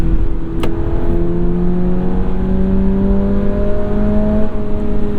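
A 2022 Subaru BRZ automatic climbs steadily toward its high redline, the engine note rising loud and continuous from inside the cabin with no talking.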